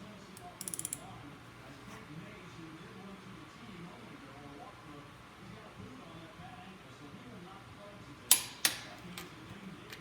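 A torque wrench tightens bolts on a 426 Hemi engine during assembly: a quick burst of ratcheting clicks early on, then two sharp, close clicks near the end over a quiet shop background.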